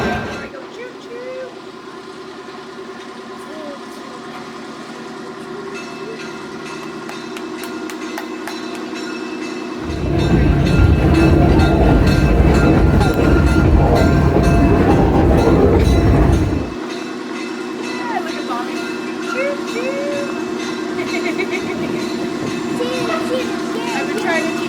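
The Cowichan Valley Railway train at the BC Forest Discovery Centre rumbles along the tracks, with a loud, dense passage in the middle between quieter stretches, while people talk and children play nearby.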